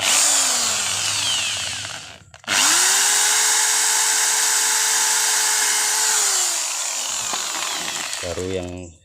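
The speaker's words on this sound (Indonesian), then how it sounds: "Saya akan melubanginya dengan menggunakan mata bor" A power drill with a 3 mm bit bores holes in a clutch lining part for a Honda Supra X 125, giving a loud, steady high whine in two long bursts split by a brief pause, then spinning down.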